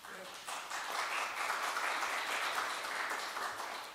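An audience applauds at a mayor's news conference, a steady patter of many hands clapping that builds quickly and holds, heard fairly close in a room, with some talk mixed in.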